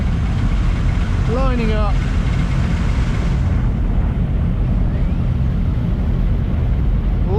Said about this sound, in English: They've just given us a call to start the engines, so as you can hear, the whole grid here